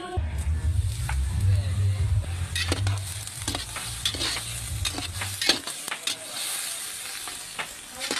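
Native chicken sautéing in a pot for binakol crackles and sizzles while a utensil scrapes and clacks through it in irregular strokes, a low steady hum underneath for the first few seconds.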